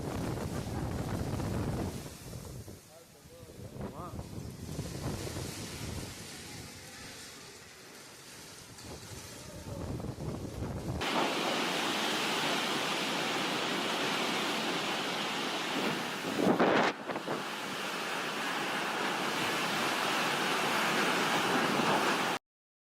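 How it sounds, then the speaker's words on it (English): Powerful storm with torrential rain and hurricane-force winds: heavy roaring wind buffets the microphone, shifting midway to a dense, steady wash of pouring rain with a brief louder gust. "a powerful storm system has swept across large parts of Europe, bringing torrential rain, hurricane-force winds and widespread disruption from Spain to Germany."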